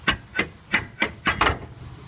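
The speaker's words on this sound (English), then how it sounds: "the axle out by using this brake drum as a hammer" A brake drum swung as a hammer strikes a stuck axle shaft on a Cadillac during a rear disc brake conversion, five or six sharp metallic blows in steady rhythm, close and fairly loud, the last two nearly overlapping.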